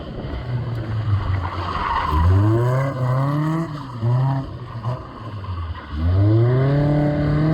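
A Caterham sports car drifts on track at Silverstone during a drifting competition, with tyres squealing in repeated sweeping bursts over a revving engine, loud and close.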